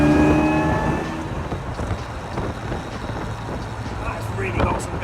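A supercharged 1.6-litre classic MGA engine under way on the road, a loud steady drone with wind buffeting, easing slightly after the first second; a person talks over it.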